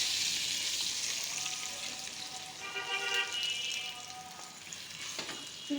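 Egg being fried down (bhuna) in a pan, a steady, fairly loud sizzle and crackle running throughout with light stirring scrapes mixed in.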